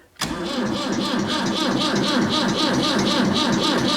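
A Massey Ferguson 265 tractor's diesel engine cranks and catches: a sudden start after brief quiet, then a loud, close, steady chugging idle with a regular pulsing knock.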